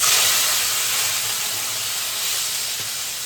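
Cleaned prawns (kolambi) dropped into hot oil in a pan over a low gas flame give a steady, loud, close hissing sizzle throughout, with no voices.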